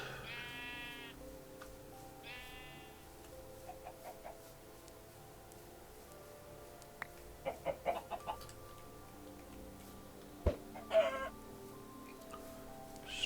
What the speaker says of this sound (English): So chickens.